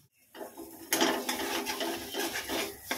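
Spices fry in a pan while being stirred, producing a continuous sizzle with metallic scraping and clinking of a spoon against the pan.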